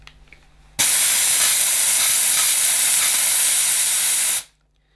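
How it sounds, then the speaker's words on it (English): A Dupray Neat steam cleaner blasts a loud, steady hiss of pressurized steam for about four seconds, starting abruptly and cutting off sharply, with no talk. "it seems to be allowing an awful lot of steam"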